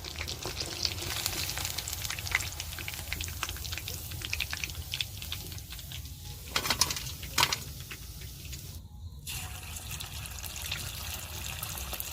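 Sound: chicken pakoras deep frying in oil

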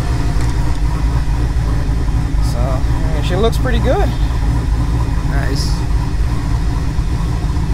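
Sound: Nissan 300ZX engine idling at around 800 RPM

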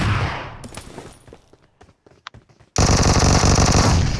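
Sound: machine gun firing continuously in video game BGMI

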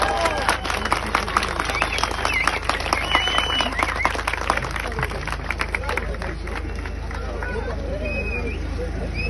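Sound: audience applause

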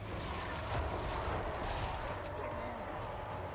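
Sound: artillery cannons firing in Total War Warhammer 3 video game

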